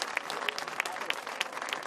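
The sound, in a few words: crowd applause and cheering at trophy presentation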